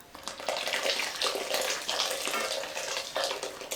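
Water pouring from a tap into a pan of peanut butter and meat for soup, a steady close rushing splash running the whole time with no talking.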